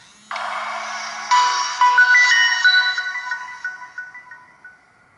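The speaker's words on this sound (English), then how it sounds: "So let's turn on." An old mobile phone with a trackpad and six SIM slots plays its startup tone when switched on: a loud, clear electronic chime with a stepped series of melodic notes that rings alone and fades over several seconds.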